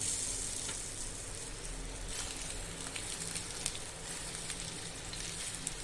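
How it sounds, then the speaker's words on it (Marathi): Alu vadi, rolled colocasia leaf slices, shallow frying in hot oil on a flat griddle, giving a steady, close, even sizzle that crackles continuously throughout with no talking. "तव्यामध्ये तेल आपण गरम केलं आहे आता त्यामध्ये आपण ठेवूयात वड्या आणि या पद्धतीने त्या शॅलो फ्राय करून घ्यायच्या"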